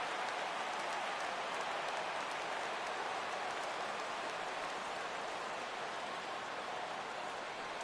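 Baseball stadium crowd in a PS4 game hums as a steady, dense roar of distant cheering and murmur, constant in level throughout with no commentary over it.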